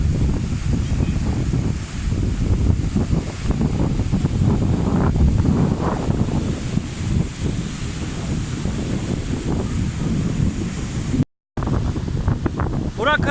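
Strong storm wind and heavy surf on Boracay's White Beach, loud roaring gusts against the microphone over crashing waves, with a short dropout near the end.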